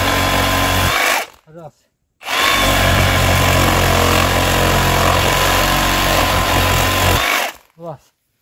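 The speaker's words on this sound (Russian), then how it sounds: "Теперь 28-21. Попробуем этой пилой." A Milwaukee 2821-20 cordless reciprocating saw fitted with a Diablo carbide blade cuts loudly and close, a brief burst and then a sustained harsh buzzing roar for about five seconds before stopping, with short low sounds between.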